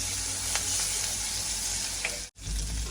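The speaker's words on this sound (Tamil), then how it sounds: "நல்லா வதக்கிடுவோம்." Curry leaves and other ingredients sautéing in oil in a pan, a steady continuous sizzle close up with a few soft stirring scrapes, then a brief cut near the end before the frying resumes.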